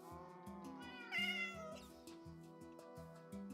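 A Minecraft cat meows once in a short rising-falling call, heard clearly over a steady, repetitive game music loop with pulsing low notes.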